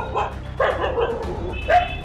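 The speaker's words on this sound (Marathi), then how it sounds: "पुण्यात भटक्या कुत्र्यांचा सुळसुळाट" Stray dogs barking on a street in Pune, a few sharp close barks and yips in quick succession, loud and clear with faint background noise.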